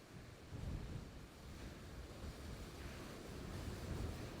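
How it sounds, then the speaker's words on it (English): Waves crash and roar on Bosta Beach on Harris and Lewis, a broad continuous surge of surf with wind buffeting the microphone and no voices. "the way the waves is just crashing that water off there"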